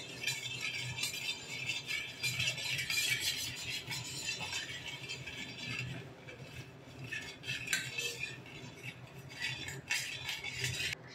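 A spoon stirs besan (gram flour) with salt and asafoetida in a steel pot to dissolve it for dhokla batter: steady, close clinking and scraping of metal on metal that runs continuously, with no speech.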